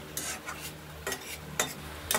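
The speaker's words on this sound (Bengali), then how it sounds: "ডালটা ভাজা অল্প হয়েছে, বেশি ভাজবো না আমরা।" Mung dal dry-roasting in a pan, with a soft sizzle under a few separate scraping stirring strokes spaced roughly half a second apart, close and fairly quiet.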